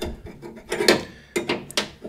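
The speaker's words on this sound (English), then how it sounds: "or if you have the ratcheting wrench" A ratcheting wrench clicks in short rasping bursts while loosening nuts on a 1988 Ford Bronco's tailgate, close and moderately loud with no voices.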